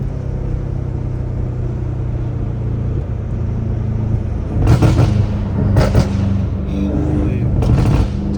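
A BMW M5 Competition rumbles along under steady road noise, then several sharp exhaust pops and crackles burst out in quick succession near the end, close and loud.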